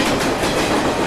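A train runs in a Malayalam film scene, giving a steady rolling clatter of wheels on rails, loud and continuous through a very short stretch.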